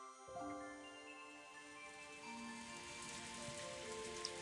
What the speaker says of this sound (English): As Angie slept, she was wrapped up in the soft sound of the rain.